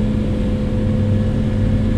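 A Farmtrac tractor engine runs steadily, heard from inside the cab as a loud, constant low hum with a firm droning tone and no talk.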